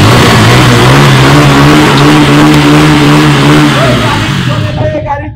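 A used 2018–2020 model motorcycle engine runs after a self-start, a loud, steady close-up idle with a firm low hum that fades slightly at the end.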